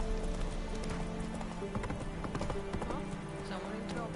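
A horse gallops in The Witcher 3 game, with rapid, clear hoofbeat clip-clops over steady game ambience, a short whinny and some voice talking over it.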